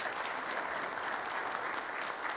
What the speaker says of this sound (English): a round of applause is an excellent presentation here this morning